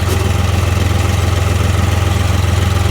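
A Case IH tractor engine idles steadily while warming up, a loud, constant low throb with an even pulsing rhythm that runs throughout, no talking.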